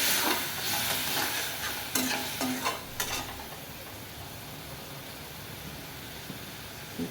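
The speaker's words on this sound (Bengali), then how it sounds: "দিয়ে ভালো করে একটু জল দিয়ে দেবো, ভালো করে নেড়ে চেড়ে নেবো" A spinach and prawn curry with chilli powder and a splash of water is stirred in a pan. Loud sizzling and scraping stir strokes cluster near the start, then the sizzle settles into a steadier, quieter hiss.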